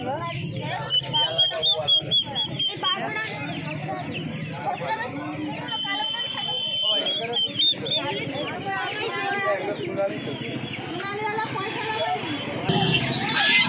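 Runner ducks packed in cages at the Uluberia poultry market quack repeatedly amid busy crowd babble and people talking nearby.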